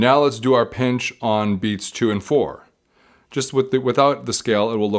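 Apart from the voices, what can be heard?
No everyday noise stands out behind the speech.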